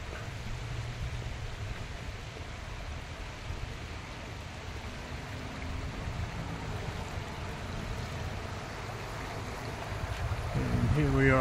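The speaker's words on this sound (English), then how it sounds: "And here we are by a creek." A creek flows at a normal rate, making a steady, broad rushing wash of moving water heard up close outdoors. The sound grows slightly louder toward the end, and no one talks over it.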